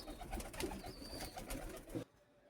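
Red Bull pigeons coo in a loft, a steady murmur of overlapping soft calls that continues for about two seconds before cutting off into near silence.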